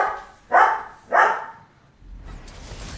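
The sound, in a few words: dog barking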